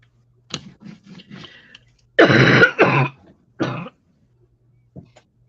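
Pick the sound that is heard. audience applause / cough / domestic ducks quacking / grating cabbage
cough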